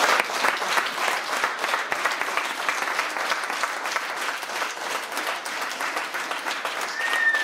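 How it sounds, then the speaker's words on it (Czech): A theatre audience in a Kharkiv playhouse gives a standing ovation, sustained dense clapping that stays loud and even throughout with no break. "nadšení diváci zvedají a tleskají ve stoje"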